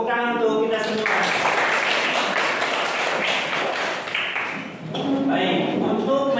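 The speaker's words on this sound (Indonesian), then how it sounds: "Tepuk tangan untuk kita semua." Classroom applause from a group of junior high school students, a broad burst of clapping that holds steady for several seconds, dips briefly, then swells again, with voices at the start and end.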